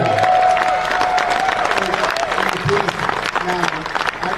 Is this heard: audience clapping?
yes